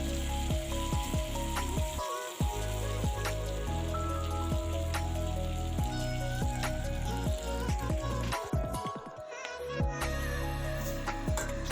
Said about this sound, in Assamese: মছলাখিনিৰ লগত মাংসটো কিছু সময় লৰাই তাৰপিছত মই পানী এড কৰিম।